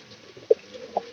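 Two short, soft pigeon coos sound close by in a quiet room, spaced about half a second apart.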